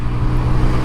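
A motorcycle engine drones steadily and loudly up close as the rider works through a gear shift, with no clear break in the sound over the short stretch.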